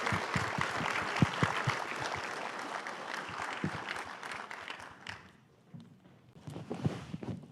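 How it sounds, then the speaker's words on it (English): A symposium audience applauds departing panelists with steady, moderately distant clapping. It thins out and fades after several seconds, then a few scattered claps return near the end. "Can we give them one last round of applause?"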